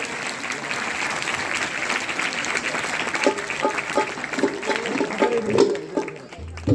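Steady applause from a crowd at a devotional bhajan gathering, a dense sustained wash of many hands clapping that grows a little louder and choppier with cheering voices before breaking off near the end.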